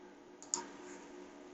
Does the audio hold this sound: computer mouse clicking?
yes